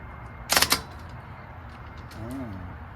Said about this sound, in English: So I've got a 13 millimeter on here. I'm just going to remove the bolts.